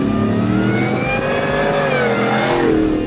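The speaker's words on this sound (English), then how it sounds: "The supercharger sound fills the cabin." A 770-horsepower supercharged 2020 Shelby F-150 Super Snake pickup engine revs and pulls steadily, with supercharger whine audible from inside the cabin and no talking.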